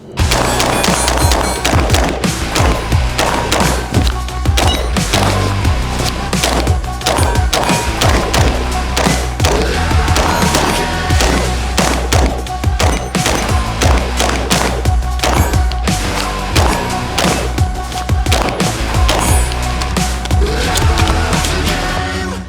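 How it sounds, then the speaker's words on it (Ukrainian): Repeated gunshots from a Sig Sauer MCX-SPEAR LT carbine fired at a 300-meter outdoor range on a windy day, loud sharp cracks coming in a steady string of rapid shots with echoing booms throughout. "Зараз ми трішки постріляємо з цього карабіна на таких середніх швидкостях"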